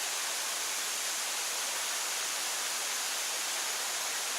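Tupapakurua Falls, a waterfall with huge boulders at its base and fine mist in the air, roars as a steady, dense broadband rush that stays constant and loud throughout, with no voices.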